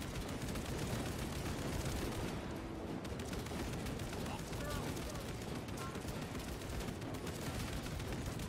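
Continuous gunfire in the game Space Marine 2: a thick, unbroken wall of rapid shots and blasts that stays steady throughout, with a voice faintly mixed into the din.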